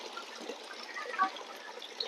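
Water trickles and splashes steadily from a homemade pond fountain, a soft continuous flow heard at close range without talk.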